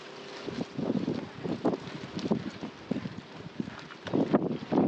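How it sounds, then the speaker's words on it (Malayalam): Strong wind buffets the microphone at a riverside fishing spot, coming in uneven low rumbling gusts and thumps that rise and fall, loudest toward the end. "ഞങ്ങൾ പറന്ന് പോകുന്ന അത്രയും കാറ്റുണ്ട്"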